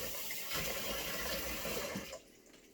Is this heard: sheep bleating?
no